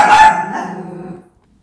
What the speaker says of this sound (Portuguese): meu cachorrinho latiu